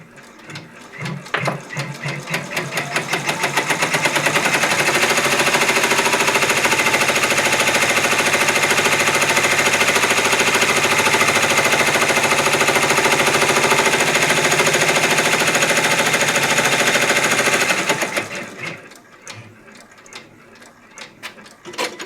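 A multi-needle embroidery machine stitches an applique placement line with a loud, fast mechanical rattle that ramps up, holds steady for about twelve seconds, then winds down and stops.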